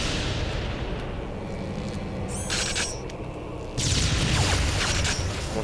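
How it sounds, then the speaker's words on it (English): Homing rockets launch and explode in TimeSplitters 2, with dense, rumbling blasts and sustained roaring fire that swells louder near the end, heard alone and without voices. "This thing fires homing rockets, apparently."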